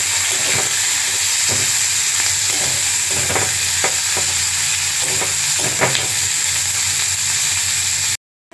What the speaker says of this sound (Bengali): পেঁয়াজটাকে হালকা লাল করে ভেজে নেব।